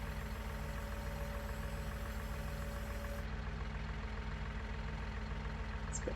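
A tractor with a mower attached in Farming Simulator 19 runs with a steady, loud, throbbing diesel engine note, rhythmic and unchanging throughout with no talking.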